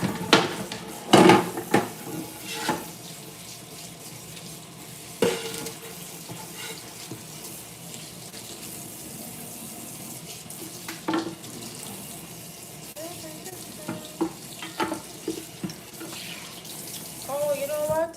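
A kitchen tap runs while something is rinsed in the sink during cooking, with loud splashing and clattering dishes at the start, then steady running water and occasional clinks.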